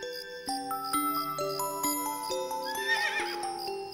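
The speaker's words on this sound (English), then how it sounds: "That's a horse." A horse whinnies in a single drawn-out call over a bright, tinkling melodic backing, with no talking.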